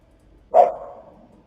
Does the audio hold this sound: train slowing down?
no